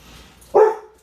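A dog named Gunner lets out a single sharp bark, close and loud, standing alone against a quiet kitchen where apples are being water bath canned.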